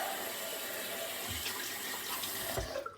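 Running water from a tap during a wet shave rinse, a steady close splashing flow with a couple of low thuds, then tapering off at the end.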